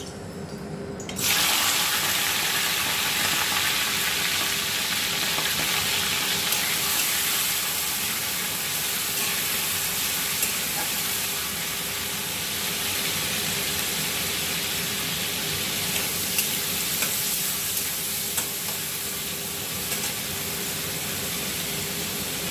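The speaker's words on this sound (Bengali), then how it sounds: "আমি কড়াইতে তেল বসিয়ে রেখেছি, এখন আমি চিংড়ি মাছগুলো দিয়ে দেবো" Prawns dropped into hot oil in a wok crackle and hiss in a steady, loud wash of sizzle that starts abruptly and continues without pause.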